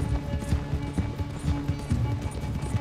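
Horse galloping in Red Dead Redemption 2, with quick uneven hoof thuds running steadily over a dense bed of game music and ambience.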